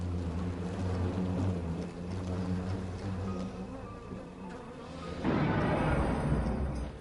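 Giant hornets swarming a honeybee colony, a steady droning buzz of many wings close by, thickening into a louder, denser hum in the final seconds.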